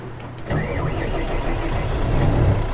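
Mercedes-Benz Tourismo bus engine in Euro Truck Simulator 2, a low, steady rumbling drone that rises in level after a moment and holds close and loud, with no talk over it.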